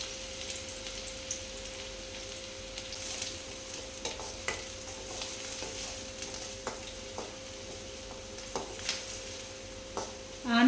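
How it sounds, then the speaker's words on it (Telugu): Thinly sliced onions hitting hot oil for Chinese Manchurian, a continuous close sizzle dotted with light spatula scrapes and a steady tonal hum beneath, ending in a sharper clatter, no talking. "ఆయిల్ బాగా వేడైంది. ఇప్పుడు ఆనియన్ వేసుకుందాం. సన్నగా కట్ చేసుకొని పెట్టుకున్న ఆనియన్,"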